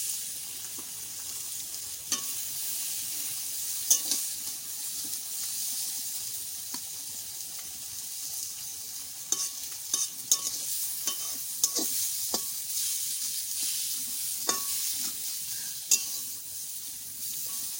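Bottle gourd leaves and tender shoots fry in a pan with a continuous soft hiss and sizzle, broken by repeated scraping stirs and occasional clicks of the utensil.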